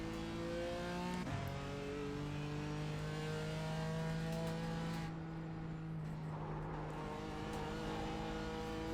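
BMW race car engine in iRacing during an IMSA Pilot Challenge race at Barber, a steady droning rev held at high pitch, then dipping and climbing again as the car shifts, close and continuous.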